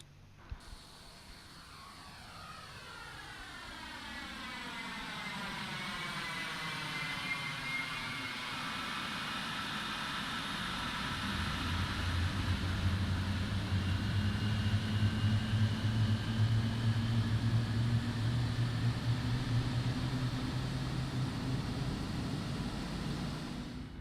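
Both engines of a QualityWings 787-9 spool up together on auto start in a flight simulator, a rising whine with sweeping tones over a broad hiss that swells into a steady, loud rumbling roar.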